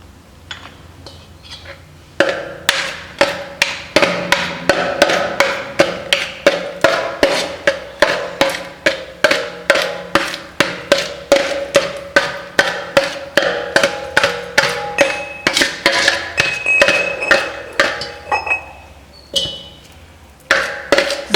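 Cardamom being pounded into powder, a long run of sharp, regular metallic strikes with ringing clinks, close and fairly loud, with no talk.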